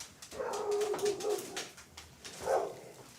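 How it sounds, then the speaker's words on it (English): A dog downstairs in a house barks with a few muffled, medium-distance yelps and whimpers in two short bursts, with no talk over it. "that's causing the dog downstairs to bark"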